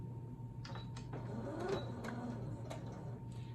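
A sewing machine stitching around a quilt block, its motor whirring steadily at close range with several short bursts of needle clatter as the fabric is guided along the outside edge.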